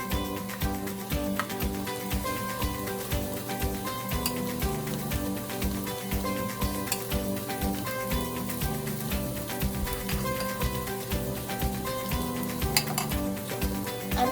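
Green curry paste sizzles steadily in a hot pan for a vegetable Thai green curry, with a utensil repeatedly stirring and scraping in a regular rhythm, close and moderately quiet, no talking.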